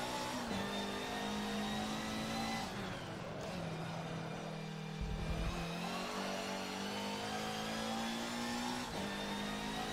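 A race car engine in a racing video game drones loud and steady, with several quick manual gear shifts marked by brief rises and drops in pitch, along with a sustained high whine throughout.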